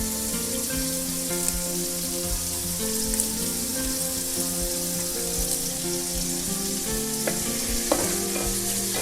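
Fresh curry leaves crackling in hot oil for a Kerala red spinach stir fry, a continuous dense sizzle with occasional sharp pops, close and steady, no voices.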